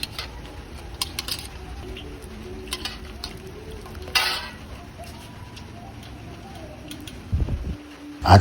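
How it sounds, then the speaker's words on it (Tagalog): Spare ribs frying in boiling cooking oil, a steady low crackling sizzle throughout with occasional clinks of utensils and a louder clatter near the end. "At pagkatapos, diretso na po dito sa ating kumukulong mantika."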